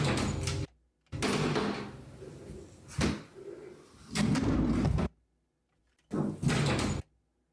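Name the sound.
kitchen door shutting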